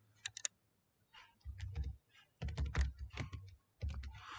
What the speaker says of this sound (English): Just type some message here.